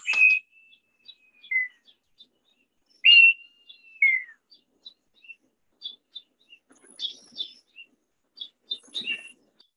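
Bird calls recorded while birding in Ghana: clear, sharp whistled notes with downward slurs, then a scatter of short chirps and twittering phrases, close and isolated against near silence.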